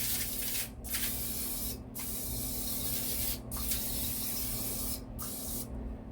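Several short bursts of cooking oil spray hiss in an air fryer, each about a second long, over a steady low hum with brief pauses between them.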